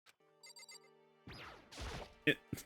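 In the video game Danganronpa: Trigger Happy Havoc, a soft electronic doorbell chimes a few quick tones, followed by louder sweeping game sound effects and sharp clicks.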